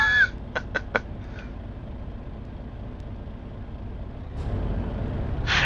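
Air brakes on a simulated heavy truck hauling a dozer in Euro Truck Simulator 2, short sharp hissing bursts at the start, then a low engine rumble that swells near the end.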